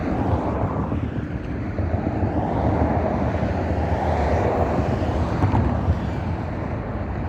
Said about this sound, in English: We see that one United jet getting ready to take off, and then there's another one right behind him getting ready to go.